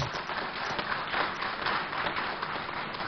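An audience at an architects' induction ceremony claps to welcome ministers, a steady, faint wash of applause from a distance.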